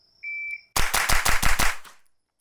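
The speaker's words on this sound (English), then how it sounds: "this rifle just shoots fantastic" Rapid string of roughly eight suppressed rifle shots through a HUXWRX Flow 9K Ti titanium suppressor on a JP-5, loud and close, after a short electronic beep tone.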